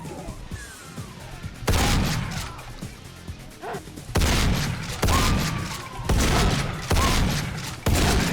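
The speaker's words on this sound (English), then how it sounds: "Wow, 3 shotgun blasts!" Shotgun blasts from Brutal Doom II, a run of loud booming shots in quick succession, each with a harsh burst and short decay, mixed with other game combat noise.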